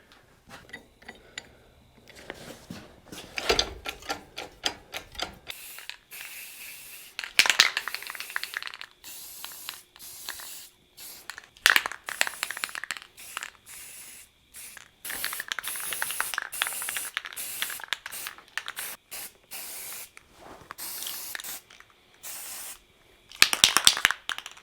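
A pressure washer sprays excavator parts during a rebuild, its hissing jet running in long bursts with pauses between, cut by ratcheting clicks and small metallic knocks, close and fairly loud with no talking.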